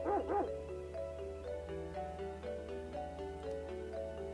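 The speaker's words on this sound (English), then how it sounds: "Melancholy whimper." Melancholy dog whimper from the RPG Maker game Arc Arath, a few high, wavering whines at the start followed by softer repeating tonal chirps over a steady low hum.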